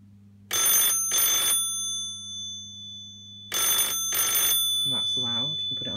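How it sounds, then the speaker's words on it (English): A 1979 orange GPO rotary telephone rings loudly up close in two bursts of bright, rapid bell trills, each burst made of two rings with a pause between the bursts, followed by a person speaking. "I'll give it a call for you so you can hear the ringer."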